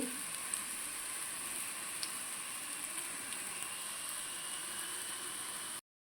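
Rice flour appam frying in oil in a pan over a low flame, giving a steady, even sizzle with faint crackles throughout, close by and with no talking.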